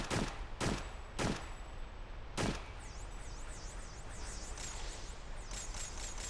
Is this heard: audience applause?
no